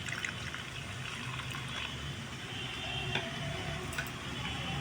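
Water is poured into coriander powder to mix a spice paste, making a soft, steady trickling hiss with faint ticks, close and continuous.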